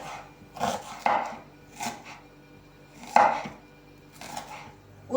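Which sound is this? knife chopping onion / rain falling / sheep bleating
knife chopping onion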